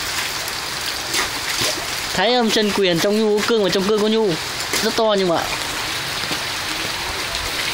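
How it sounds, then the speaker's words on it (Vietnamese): Heavy rain falls as a constant broad hiss throughout an outdoor martial arts performance during a storm, while someone speaks loudly over the downpour. "Mặc dù hôm nay là mưa bão"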